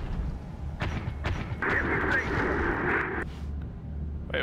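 Gunfire and heavy weapon blasts in the video game Terminator Dark Fate, a few sharp reports followed by a sustained rumbling burst over a low battle drone, loud and close.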